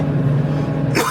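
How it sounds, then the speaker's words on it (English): A single short cough from a person with a cold bursts out near the end over a low, steady background hum on a dairy farm. "So excuse the coughing."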